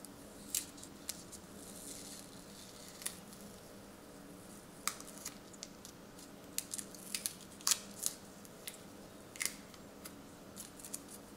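Scissors snip a thin gray sticker inside an HTC One M9 phone during a teardown, giving sharp, scattered close clicks and cuts over a quiet hiss, with no talking.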